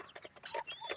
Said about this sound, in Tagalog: Ito yung mga manok na makukulit, nakawala pa rin sila.